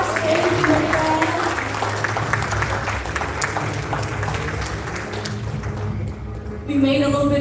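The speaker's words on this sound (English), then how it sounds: "Can we give Cici another round of applause?" A benefit dinner audience applauds Cici with dense, sustained clapping that fades after several seconds, followed by a voice speaking over a microphone.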